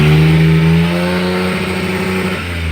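A Multicab minivan's engine runs close by, a loud steady rumbling idle with a slight drop in pitch partway through, heard alone without voices.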